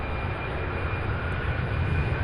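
A Boeing 767 jet airliner near runways at Louisville airport gives a steady, loud broadband roar of engines that holds evenly throughout, with no talk over it.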